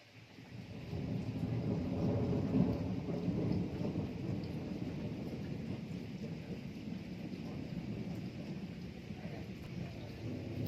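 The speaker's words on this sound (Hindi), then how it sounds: "देखिए कैसी बारिश आ रही है" Heavy rain pours down in Shimla in a dense, steady roar with a deep rumbling undertone, continuous for the whole stretch, no voices.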